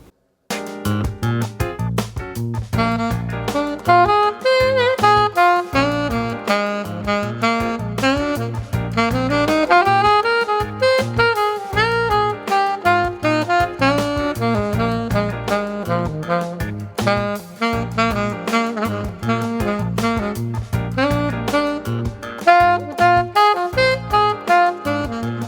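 A saxophone improvises freely on mixolydian chord and scale tones, weaving a continuous, bright melodic line over a steady low accompaniment for the whole stretch, close and full with no talking.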